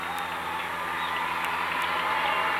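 High school boys basketball crowd celebrating a sectional semifinal upset victory, a sustained wash of applause and cheering that swells slightly toward the end, with a few sharp whistles or shouts above it.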